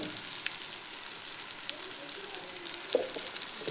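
Pieces of mutton fry in a pan as chili powder is added, giving a steady soft sizzle with small crackles and a brief louder pop near the end.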